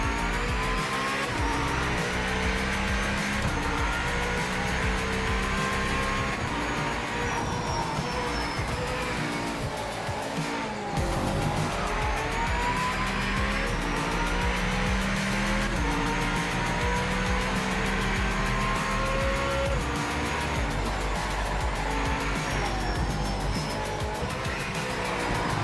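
GT race car from the Project Motor Racing video game, its engine roaring steadily and loudly throughout with shifting revs, squealing tires and passing traffic in a continuous racing mix.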